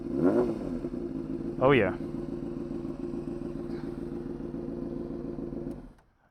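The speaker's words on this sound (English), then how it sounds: "the bike has a raspy tone to it, as you can hear" A 2003 Honda CBR600RR motorcycle engine idles steadily and close, with a quick raspy rev partway through, then the engine cuts off near the end. A person speaks briefly over it.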